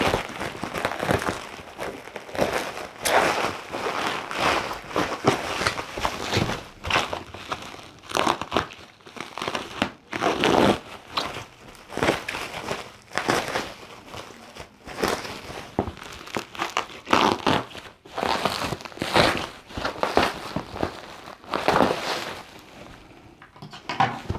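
A 13-inch ring light package is cut open with scissors and handled, giving bursts of loud plastic and paper crinkling and rustling in irregular waves, close up, with no voices.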